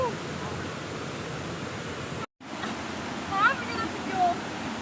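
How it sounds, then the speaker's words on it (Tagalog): Strong floodwater rushing through a rain-swollen farm creek, a loud, steady broadband roar with a short break partway through, and faint voices over the torrent in the later part. "Lakas ng tubig, oh"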